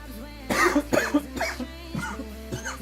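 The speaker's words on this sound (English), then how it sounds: "Sorry, boys, for the coughs" Several harsh coughs in quick succession, close and loud, with brief pauses between the bursts.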